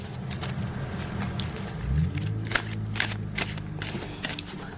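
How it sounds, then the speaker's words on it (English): Quick papery riffling and crisp snaps of cards being shuffled, several short bursts close by over a low background hum. "let's shuffle 6 times because this is the 6th month."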